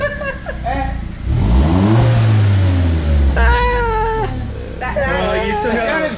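A family car fitted with a Borla aftermarket exhaust revs up with a deep, throaty exhaust rumble that rises and falls, while people talk and exclaim over it.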